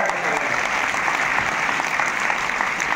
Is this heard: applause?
yes